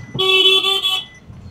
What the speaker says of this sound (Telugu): ఈ గల్లీలోనే ఎంత ట్రాఫిక్ ఉంది